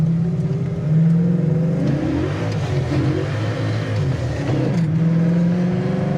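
A 1965 Mustang Fastback restomod accelerates hard through first and second gear, its engine loud and close, revving up with a brief dip at the shift before climbing again.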